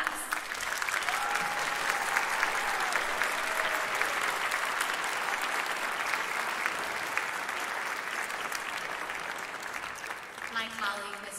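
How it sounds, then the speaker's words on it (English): Sustained applause from a large audience at a school winter fine arts festival as students enter rolls on evenly for several seconds, then tapers as a few sounds break through at the end. "As these students enter, why don't we give them some claps?"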